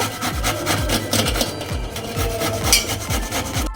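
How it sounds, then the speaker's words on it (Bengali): A peeled raw mango is rubbed against a grater in quick, even rasping strokes, roughly four per second, close and steady throughout. "আমটা খোসা ছাড়ানো হয়ে গেছে, আমি গ্রেট করে নেব"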